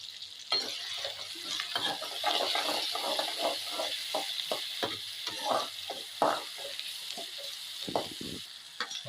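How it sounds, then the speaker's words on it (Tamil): Onions sautéing in a pan for a beef lung gravy, with a soft continuous sizzle under frequent close scraping strokes of a spatula stirring them, quiet and steady without any talking. "வெங்காயம் நல்லா வதங்கிச்சு."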